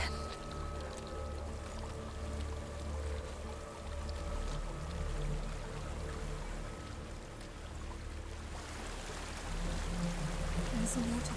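A waterfall in the video game Hellblade: Senua's Sacrifice sends out a steady, even rush of falling water that fills the scene and swells slightly louder near the end.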